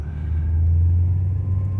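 A car runs on a test track during brake maintenance, giving a steady, close, low engine and road rumble from inside the cabin with no talking.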